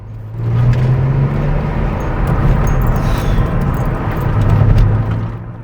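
A BMW 330ci with a manual gearbox gives a loud, sustained engine drone under acceleration, with a deep rumble rising and falling as it pulls hard, heard from inside the car with no talking.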